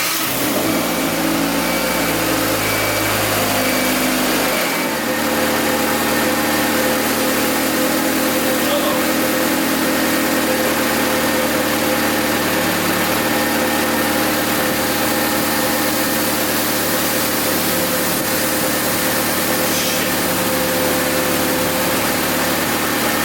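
A Honda Civic engine idles steadily with its AC compressor and cooling fans running, a constant mid-pitched hum and whir. A lower rumble drops away after about five seconds, and the drone then continues evenly for the rest of the stretch.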